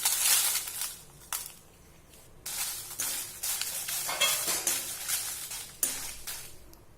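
Dried red chillies roast in a pan for mango thokku, giving a soft, dry crackle broken by brief louder scrapes and stirs, each separated by quieter stretches.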